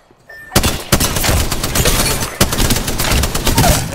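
Gunfire aimed at the player in Apex Legends comes in loud, sharp bursts of shots after a brief quiet start, with rapid repeated impacts and sustained volleys across the clip.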